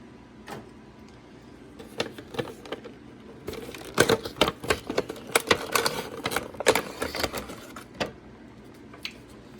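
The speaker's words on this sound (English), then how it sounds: "the top flap is taped down, so I'm gonna have to cut the tape to remove the figure" Packaging tape is cut on the flap of an action figure's toy box, heard as scattered crisp clicks and rustles building into a dense flurry of cardboard scratches and taps, then thinning out.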